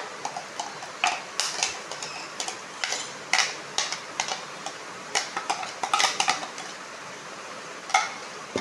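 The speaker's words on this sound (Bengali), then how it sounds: "এবার দেখতে থাকো আমি কি করে মাখাচ্ছি" Hilsa fish is worked by hand into a mustard and poppy seed paste for steamed Bengali hilsa, making irregular wet clicks and soft squelchy taps that come in uneven bursts, close up, with no talking.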